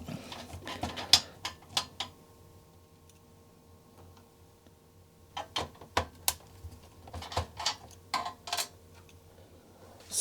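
Small screws being worked out of an Atari 520 ST computer case, giving irregular close clicks and ticks of a screwdriver in two bursts with a quiet pause between.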